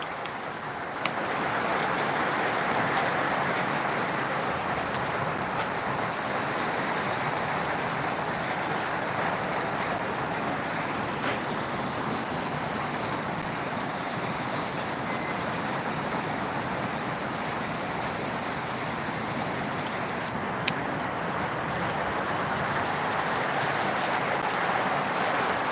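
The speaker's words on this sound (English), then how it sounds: "when it rains like this" Heavy rain pours down steadily for the whole stretch, a dense, even wash of drops close by with no voices over it.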